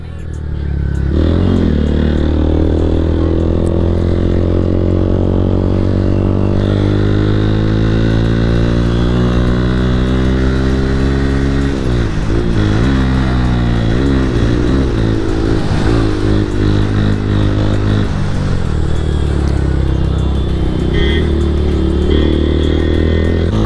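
Motorcycles on a group ride, engines droning loud and close with rising and falling revs as the bikes accelerate, wind rushing over the mics throughout.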